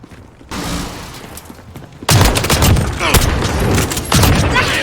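Gunfire from a Call of Duty: Modern Warfare weapon in gameplay, a loud rapid string of close shots and thumping blasts after a quieter opening.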